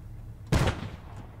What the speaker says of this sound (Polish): Jak wybuchnie tylko granat, to powiemy, że wysadziliśmy ID-ka.